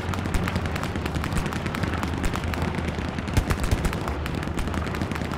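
Dense gunfire in the World War II shooter Hell Let Loose in Carentan, a continuous barrage of rapid rifle and machine-gun shots cracking close and far with occasional heavier booms.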